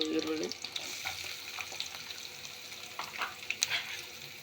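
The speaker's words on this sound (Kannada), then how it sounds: "ಚೆನ್ನಾಗಿ ಫ್ರೈ ಮಾಡ್ಕೊಳ್ಳೋಣ. ಅದಕ್ಕೆ ನಾವು ಹೆಚ್ಚಿಟ್ಟ ದೊಡ್ಡ ಒಂದು ಈರುಳ್ಳಿ" Chopped onion fries in a pan for Uttar Karnataka jhunka, a steady close sizzle with scattered pops and light scraping stirs throughout.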